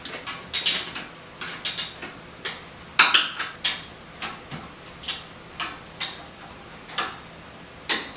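Torque wrench clicking as it tightens the inner bumper nuts to 45 foot-pounds on a Toyota Tacoma during an off-road bumper install: a steady series of about a dozen sharp, close ticks with a few louder clicks mixed in.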